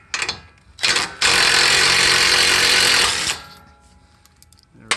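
A powered socket tool loosens the tie rod end bolt on a 2017 Ram 1500 during a front leveling kit install, with two brief bursts followed by a loud, steady two-second rattling whir up close.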